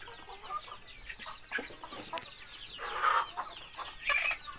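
Thai ornamental chickens cluck and chatter nearby, with a few sharper squawks over a steady rustling farmyard background.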